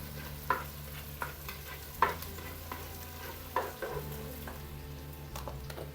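Green chillies dropped into a hot pan for an ash gourd curry give a steady low sizzle, with a few sharp stirring scrapes and clinks breaking through at intervals; no one speaks.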